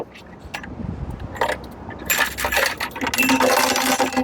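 Loose bulb and small metal parts rattle and clink inside a Jeep Grand Cherokee tail light assembly during a replacement, a quiet shuffle first, then a louder run of bright jangling taps close by.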